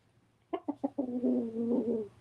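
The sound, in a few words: birdsong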